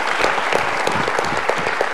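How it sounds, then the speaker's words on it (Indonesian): Studio audience applause on an Indonesian talk show, dense steady clapping throughout, loud and close, with no talking over it. "Boleh tepuk tangan buat Bang Patra."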